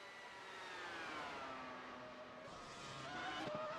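A race car in qualifying, engine note rising and sweeping steadily as it drives toward the line, with faint tire noise near the end.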